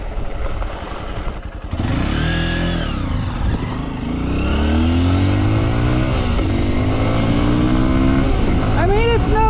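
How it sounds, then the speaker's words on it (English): Honda XR150 dual sport motorcycle engine pulling uphill, loud and close with a steady laboring drone, gear changes and rising revs, under wind noise and a rider's voice. "you will see this is not the quickest bike in the world, and pulling hills, it does lag a bit"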